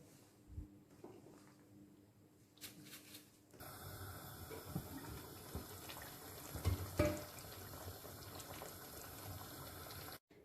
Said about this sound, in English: we're going to cover the potatoes with water